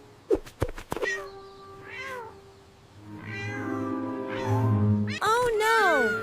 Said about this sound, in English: A poor little orange cat is stuck high up in the big oak tree and cannot get down.